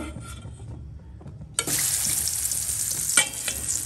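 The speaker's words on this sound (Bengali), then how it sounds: "তেল গরম করে নিয়েছি, একটা একটা করে লেগ পিস আমি দিয়ে দেব।" Chicken leg pieces drop into hot oil one by one, bursting into a loud, sudden sizzle that continues, with a second sharp surge as another piece goes in.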